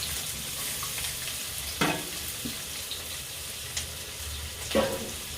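Onion, ginger-garlic and green chillies sizzle steadily in hot oil in a pan, a continuous frying hiss with a few sharper crackles and stirring scrapes near the microphone, no voices.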